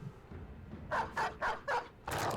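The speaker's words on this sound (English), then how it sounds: "Alright, I'm firing a dog out of my gun." A dog fired from a dog cannon in the Battle Brothers video game barks four times in a quick even rhythm, loud and near, followed by a longer final yelp after a faint start.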